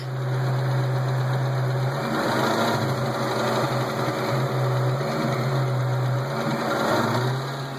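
The engine of a 2003-2004 Ford SVT Cobra Terminator runs steadily and loudly, with a constant low drone and a busy, ticking mechanical texture above it that fits a valve tick, heard alone without talk.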